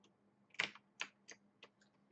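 Computer keyboard keys are pressed during a game of Happy Wheels, about five crisp, quiet clicks spaced irregularly in an otherwise quiet room.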